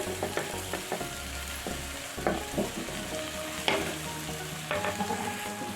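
Potato and meal maker (soya chunk) pieces fry in a pan for a masala curry. Steady close sizzling is broken by repeated scraping strokes of a spatula as the pieces are stirred.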